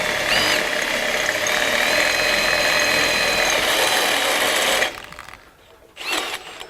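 A step reamer from a Champion Cutting Tool set cuts into half-inch steel, a loud steady whining drill drone that drops away near the end, followed by a quieter pause and a short final burst of motor.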